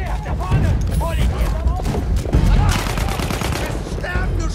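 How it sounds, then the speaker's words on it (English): Rapid bursts of gunfire ring out in Battlefield 1 during a foggy battle, loud and close, repeating in quick volleys over a constant rumble of combat while someone talks over the action. "I have to fire everything I got"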